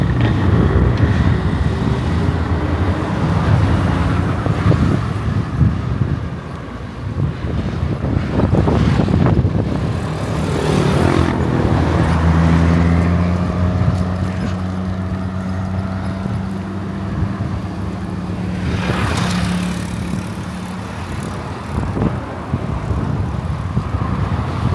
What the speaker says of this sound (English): Yeah, the wind's really blowing, so it's really slowing me down.